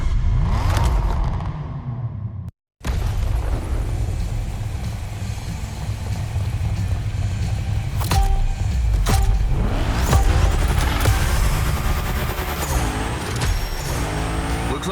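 Cars in The Crew Motorfest video game rev and race around a gymkhana grid, with loud continuous engine roar, rising revs and hissing, brake-like bursts layered throughout, cut by one brief silent gap.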